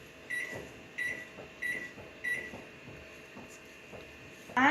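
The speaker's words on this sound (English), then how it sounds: "Now I am going to press the microwave button." A microwave oven's keypad gives four short, evenly spaced high beeps as its buttons are pressed, over a low steady hum, ending with a louder tone as it starts.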